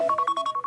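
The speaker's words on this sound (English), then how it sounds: "that's my alarm going off" A phone alarm chirps in a fast, steady series of short electronic beeps, clear and moderately loud, with no voices.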